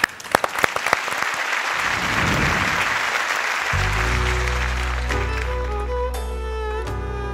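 Audience applause at a Turkish folk music night as a performer is called up, a dense sustained clapping that swells and holds, then music enters underneath as the clapping carries on.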